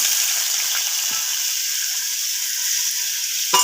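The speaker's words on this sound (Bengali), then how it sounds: "এবারে প্রথমে আলুটা ভেজে নেব।" Potato pieces frying in oil in a wok over a clay stove, a steady loud sizzle and crackle with a couple of faint stirring knocks.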